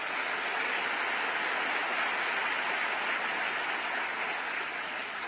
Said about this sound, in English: so give them a big round of applause for that.